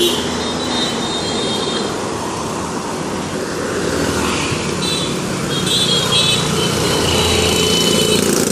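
Busy street traffic in Patong, with cars and engines passing in a steady, loud roar that swells slightly toward the end; no voices are heard.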